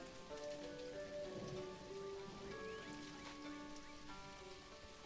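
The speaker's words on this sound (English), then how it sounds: "It's going to be a rainy day." Steady rain falls across the game world of Dinkum, a dense, even hiss of drops on surfaces with no break, accompanied by soft tonal game music and no talk.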